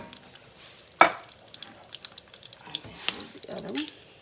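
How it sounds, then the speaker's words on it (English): Pork and beans are mixed with rice in a pot: quiet, scattered clunks and soft scrapes from stirring, with one sharp knock near the start and low background noise. "Just kind of mix it together."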